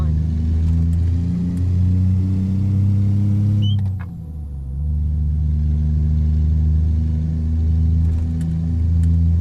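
Steady low diesel engine drone inside the cab of a Kenworth truck in American Truck Simulator, a continuous rumble that briefly dips and shifts pitch midway before settling back, loud and close.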